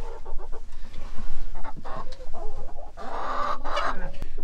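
Chickens clucking on a snowy homestead, several hens making steady overlapping clucks and calls close by, growing busier and louder toward the end, with no talking.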